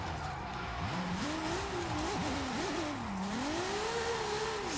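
A hypercar in an online racing video game spins out during a 360 drift, its engine note rising and falling in continuous swoops over steady tire noise, loud and unbroken.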